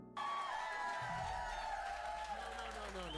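A studio audience cheers and whoops loudly. The roar starts abruptly and stays dense for the whole stretch, with a voice audible within it.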